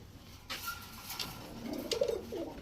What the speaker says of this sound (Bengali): এটা একটা রোড মাস্টার কবুতর